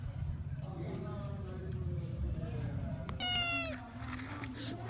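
A pregnant house cat meows while fish is being cut nearby. One clear, drawn-out meow rises midway through, loud and close, with faint talking and low background hum around it.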